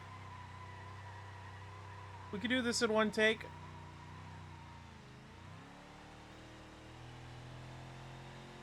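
A video game car engine hums steadily at a low idle throughout, with a brief rev near the middle, while someone speaks over it in a short burst.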